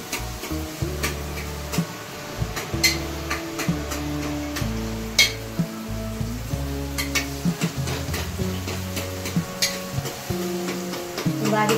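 Chopped tomatoes fry in a pan for urad dal, with repeated scraping strokes of a spoon stirring in an uneven rhythm over a soft steady sizzle, close and moderately loud.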